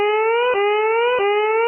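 A civil defense siren sounds loud and steady, its tone rising slowly and dropping sharply in repeated cycles.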